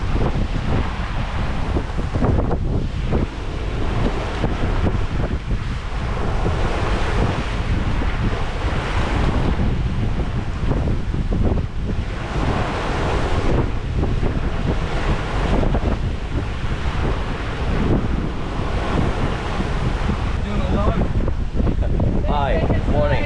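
A sailing boat crosses the open Pacific between the Galapagos and the Marquesas, with loud, constant wind buffeting and rushing waves throughout and faint voices now and then beneath the roar.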